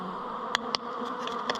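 Honey bees buzz around a hive while frames are handled outdoors in winter, a steady close drone with a few sharper passes of individual bees flying near.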